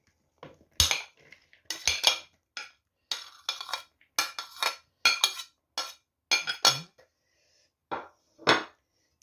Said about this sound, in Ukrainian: Візьму миску, поставлю отак. І буду все замішувати.